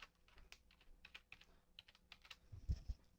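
Quiet, irregular typing on a computer keyboard, with clusters of soft key clicks close by and a couple of slightly heavier taps near the end.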